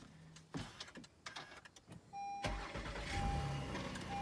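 A 2018 Honda Odyssey minivan starts up: a few clicks and thumps inside the cabin, then the engine catches and settles into a steady idle hum with a faint electronic chime.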